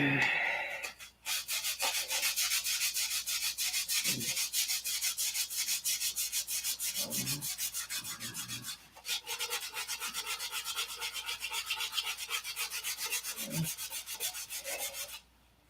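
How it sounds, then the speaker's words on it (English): Steady, close rasping of sandpaper worked over a wooden aircraft fuselage, long continuous strokes with a few brief pauses between passes, no talking. "No, but I can sure sand the crap out of it."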